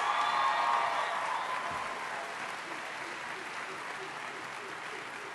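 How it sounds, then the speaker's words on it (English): Sustained crowd applause at a university rally celebrating the Stanley Cup, a dense steady wash of clapping that starts loud and eases slightly, with faint voices in the background. "Let's give them another round of applause."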